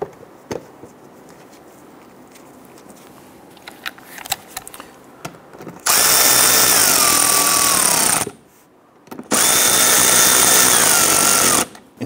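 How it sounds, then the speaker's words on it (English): A power tool drives the lower screws into the front grille of a 2011-2019 Ford Explorer. It starts with soft handling clicks, then gives two loud sustained whirring runs of a few seconds each, separated by a brief pause. "Get our lower screws installed."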